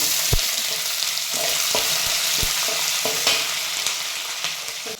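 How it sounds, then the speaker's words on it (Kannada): Onions frying with chana dal, mustard seeds and cumin in a pan for cabbage palya, giving a loud, even sizzle with a few soft knocks of the spoon, heard close and alone. "ಈಗ ಇವಾಗ ಈರುಳ್ಳಿ ಹಾಕ್ತಾ ಇದ್ದೀನಿ"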